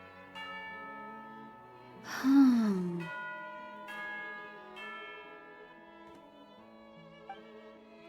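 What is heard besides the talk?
bell ringing for tea time in Genshin Impact video game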